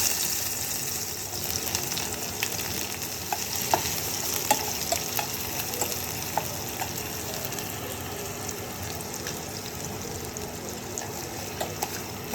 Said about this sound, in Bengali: এখন এটাকে বাগার দিব সরিষার তেল দিয়ে, রসুন, সরিষার তেল, পেঁয়াজ, একটু শুকনো মরিচ